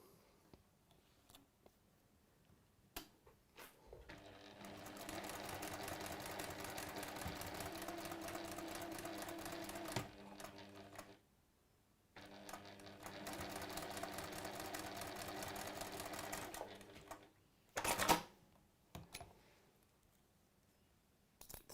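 A sewing machine stitches in two long, steady runs of rapid mechanical clatter, each lasting several seconds with a quiet gap between, followed by a few brief clicks and handling knocks.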